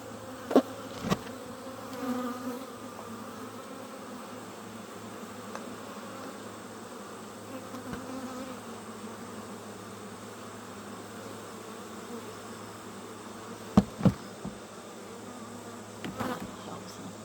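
Honeybees in an open beehive keep up a soft, continuous buzzing drone. A few sharp knocks and brief rustles come in now and then, and no one speaks.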